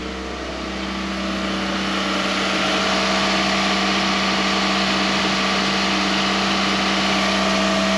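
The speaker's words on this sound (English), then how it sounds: "it's idling real high right now" A 2002 Honda Accord engine idles steadily at a fairly high, constant pitch, a fault-related high idle; a continuous hum that swells slightly at the start and then holds even, with no talking.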